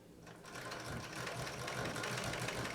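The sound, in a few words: Pfaff 230 sewing machine on treadle, free motion quilting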